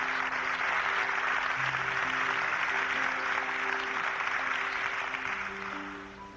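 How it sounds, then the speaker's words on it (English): An Expo crowd applauds a guest taking the stage for a talk, a steady wash of clapping under a sustained musical tone, holding level before thinning out near the end. "Let's give a real hand of applause, if you will, to John Quaid"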